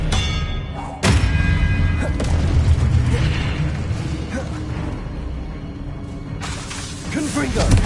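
Expelliarmus spell cast in a Harry Potter wizard video game, a heavy thump and boom with whooshing, crackling magical effects. A second burst comes near the end, and a voice speaks over it.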